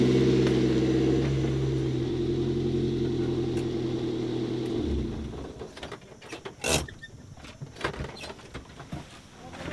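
A car is parked, its engine idling steadily and fairly loud for about five seconds before cutting off, followed by scattered clicks, thumps and small mechanical noises in a quieter space.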